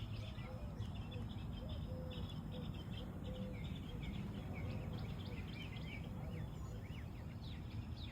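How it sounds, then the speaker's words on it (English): Small birds, cardinals among them, chirp around a backyard bird feeder, their short high calls scattered through a steady low outdoor hum. "I'm going to show y'all the cardinals we have."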